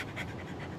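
A dog panting, a quick, soft run of breaths heard close up and alone for under a second.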